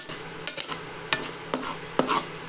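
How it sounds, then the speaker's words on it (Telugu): Peanuts are stirred into hot oil tempered with mustard seeds, cumin, urad dal, chana dal, dried red chilli and curry leaves, giving a soft low sizzle broken by a few sharp spoon scrapes and taps against the pan. "పోపు వేగాక కొన్ని పల్లీలు కూడా వేసి"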